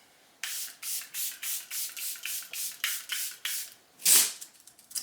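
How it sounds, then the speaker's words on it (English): Charlotte Tilbury setting spray is misted onto a face in a fast series of about a dozen close, hissing pumps, then one longer, sharper spritz. No talk. "I'm going to take some of the Charlotte Tilbury setting spray, spray my face, let it dry"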